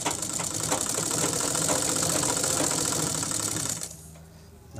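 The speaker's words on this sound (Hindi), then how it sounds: "अब इसको आप एक किनारी सिलाई मारते चले जाइए पूरा" A sewing machine stitching the edge of a langot, a fast steady close mechanical rattle that runs for several seconds and then stops near the end.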